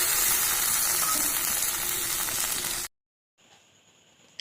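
Green chillies and mustard paste hit jackfruit seeds in a hot pan, giving a loud, steady sizzle for about three seconds. It cuts off abruptly into silence, then a faint hiss returns.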